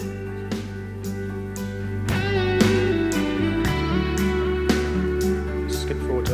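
A full band mix, raw and unmastered, plays with steady drums, bass and layered guitars, loud and dense, with periodic cymbal hits and no one talking.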